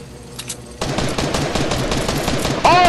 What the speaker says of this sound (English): I thought that was you shooting me!